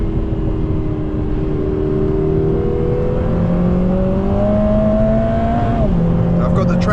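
A 2024 Lotus Emira with a 2.0-litre turbo engine accelerates hard at full throttle, its engine note rising steadily and loud throughout. A brief gear change comes near the end.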